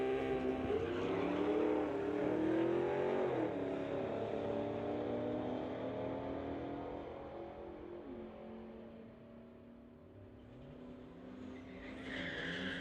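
An Infiniti and a Camaro race each other at a street-legal drag racing event, with engines roaring and revving hard, then fading into the distance, and a brief tire squeal near the end.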